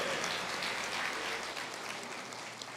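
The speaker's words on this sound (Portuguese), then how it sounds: "Vamos dar uma salva de palmas mais animada então." A church congregation gives a lively round of applause, a dense, even hiss of many hands clapping together throughout, moderately loud and unbroken by speech.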